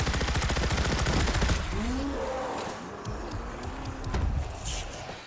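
Gunfire in World War Z: Aftermath, Korea map horde mode, a fast rattling burst of automatic shots up front, then scattered single cracks over a lower rumble with brief voices.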